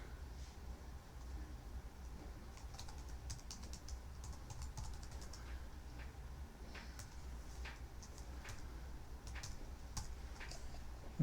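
Rapid clicking of keys on a computer keyboard as a password is typed, in short irregular bursts of taps over a steady low background hum, with no talking.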